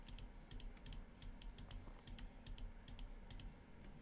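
Rapid clicking keystrokes on a computer keyboard, typing a short command into a PC game, light and fairly quiet, in an uneven rhythm of short bursts over a soft steady background hum.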